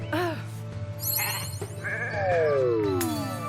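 Sheep bleat in the Renowned Explorers video game, wavering cries repeated over synthetic game effects and swooping tones, loud and close.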